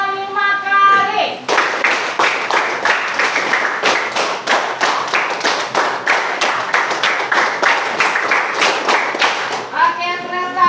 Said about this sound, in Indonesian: untuk lebih konsentrasi, kita tepuk lagi. Tepuk 5 kali.